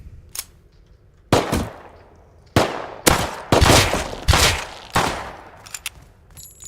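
Gunfire and headshot hits in the survival game Rust, set in a frozen snow biome: several sharp, loud shots come in uneven bursts, each with a short crackling tail, and no one talks over them.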